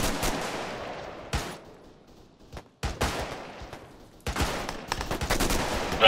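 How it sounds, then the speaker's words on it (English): Gunfire in a military video game: bursts of shots and rattling volleys, some near and loud, others more distant, with quiet gaps between the clusters and no talk. "Looks like the shooting got to the east."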